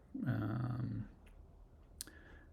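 A single crisp computer mouse click on an edit button in accounting software, quiet and close, following a short electronic tone.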